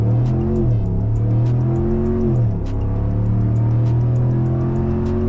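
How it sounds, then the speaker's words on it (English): The HEMI V8 of a 2026 RAM 1500 pickup drones loudly close by, its pitch climbing in steps as it accelerates hard from 0 to 60 mph through several gear shifts, steady and powerful without any voices. "Hear that V8 go from 0 to 60 mph."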